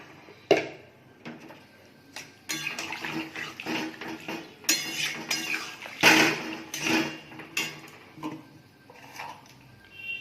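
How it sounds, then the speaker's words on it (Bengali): Water splashes and pours into a metal pan of fried vegetables and spices amid clinks and scrapes of cookware, with sizzling bursts rising and falling close by. "সবজি মশলা ভাজা ভাজা হয়ে গেছে, এবার আমি জল দিয়ে দেবো"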